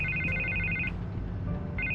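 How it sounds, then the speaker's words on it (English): A telephone rings inside a Batman video game, two electronic trilling bursts separated by a short pause, clear and up front over a low background rumble. "I can't get the phone to stop ringing"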